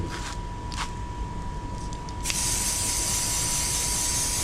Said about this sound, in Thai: เดี๋ยวใช้สเปรย์ตัวนี้พ่น